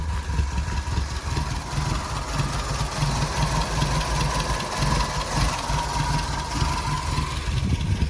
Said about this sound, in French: Je trouve le ralenti un peu faible